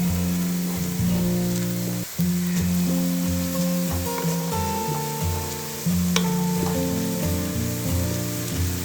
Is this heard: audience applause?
no